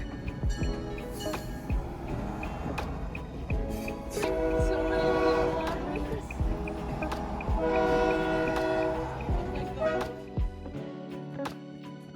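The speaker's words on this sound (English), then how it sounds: "then I almost turned into this train" A train on the Oregon coast near Highway 101 rumbles past close by with a long, loud horn blast over the steady roar of the cars, then the noise drops away abruptly.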